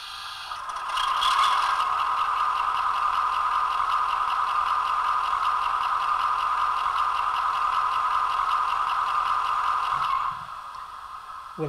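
A model railway locomotive runs along the track on a layout, producing a steady, close mechanical whirring hum with faint rattle that holds for about nine seconds before cutting off.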